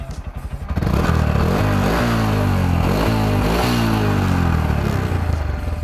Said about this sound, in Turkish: Motosiklet bu şekilde egzoz sesi